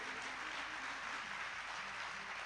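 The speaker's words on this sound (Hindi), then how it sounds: "तालियां बजा के।" At an Indian spiritual discourse, a gathering claps after the kalash procession. The applause is a soft, continuous wash of many hands, heard faint and distant without breaks.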